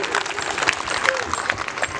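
An audience claps at a 20th anniversary celebration of a residential school, a dense, continuous patter of applause heard close, with someone talking over it.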